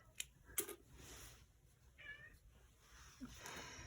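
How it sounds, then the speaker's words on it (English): A house cat meows a few times indoors, short faint calls spaced across a quiet room with a couple of small clicks and rustles, no talking. "My cat's saying hi."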